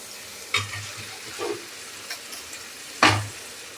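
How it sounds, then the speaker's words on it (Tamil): Onions and masala sautéing in a pan for a homemade sandwich filling, heard as a few short, close scraping stirs over a soft, faint sizzle, two strokes noticeably louder than the rest. "ரொம்பவும் வதக்க வேண்டாம் வெங்காயம் ஒரு லிமிட்டாக வதங்கினா போதும்"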